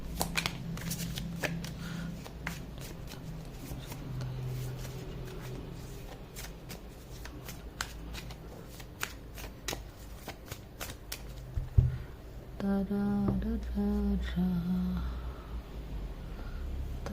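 Tarot cards being shuffled for a three-card reading, a run of soft riffling and flicking close up, with light handling noises and breaths.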